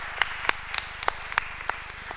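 Sparse, scattered hand claps from a small audience at an awards ceremony for a sustainable-housing forum in Paris, honouring jury members; about nine separate sharp claps over a low steady hum, no talk.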